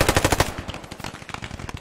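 Small arms fire from a team game event, beginning with a fast, loud automatic burst and moving into quieter, rapid shots. The gunfire is close and keeps going for the whole stretch.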